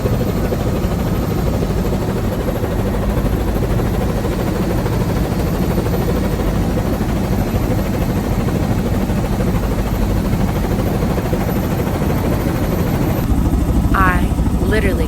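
Helicopter rotor and engine noise, loud and steady from inside the cabin throughout a New York City tour takeoff, with a voice briefly heard near the end.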